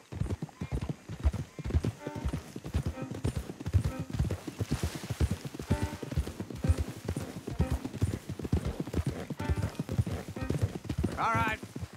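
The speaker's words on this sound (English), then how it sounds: "Don't want the horses clopping around outside the window." Horses' hooves clop steadily and quite close in the video game Red Dead Redemption 2, a continuous walking rhythm with a brief whinny near the end.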